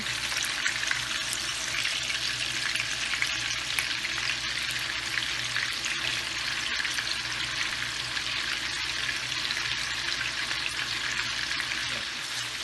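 Seekh kebabs frying in oil in a pan on a stove at medium heat give a steady, close, bubbling sizzle that holds unchanged for the whole stretch, with no talk over it.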